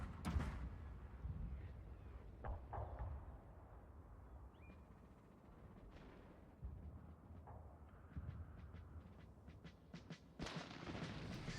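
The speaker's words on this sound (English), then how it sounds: "my grenadiers are being targeted by his 10-pounder howitzers" 10-pounder howitzers fire on grenadiers in a Shogun 2: Fall of the Samurai battle, heard as a series of scattered booms and sharp cracks over a low, quiet battlefield rumble, with a cluster of shots near the end and no speech.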